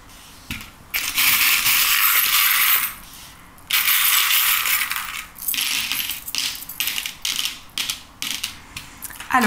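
Small metal charms rattle and clink as they are shuffled and tossed by hand during a card reading, loud bursts of jingling broken by short pauses and lighter clicks, no speech.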